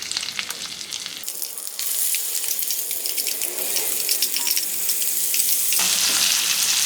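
Steady sizzling and crackling of mint and green chili paste with salt frying in a hot pan, growing louder and denser, with occasional stirring scrapes.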